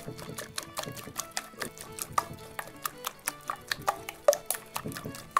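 Whisk beating half a pint of thick cream into an egg and bacon pie filling in a bowl: quick, irregular clicking strokes that are close but faint, repeated steadily.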